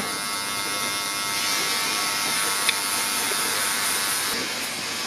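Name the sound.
cordless WAHL Magic Clip hair clipper running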